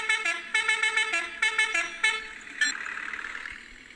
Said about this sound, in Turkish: Bunun da kornası bu şekilde.